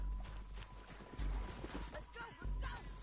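Horse hooves clip-clop in Red Dead Redemption 2 amid a busy game scene, with low rumbles and other noises around them; no speech is spoken during the clip.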